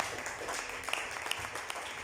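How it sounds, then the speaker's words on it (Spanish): A church congregation gives a short burst of applause during a service, with soft, diffuse clapping that stays at an even level for about two seconds. "Denle un aplauso a Cristo."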